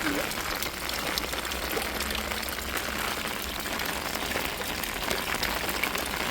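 Steady rain pours down over a village, a dense, even hiss of drops that holds without pause at moderate loudness, with a voice or two faintly present beneath it.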